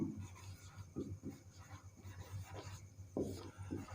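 Marker or chalk scratching on a classroom board during a physics lesson on ray optics, giving short rubbing strokes in irregular bursts, close and moderately loud, with no one speaking.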